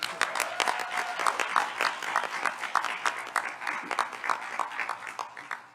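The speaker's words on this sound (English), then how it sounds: "Please give them a round of applause." An audience at an event honoring Black Girls Code students claps steadily in a dense patter of many hands, moderately distant, lasting several seconds without talk.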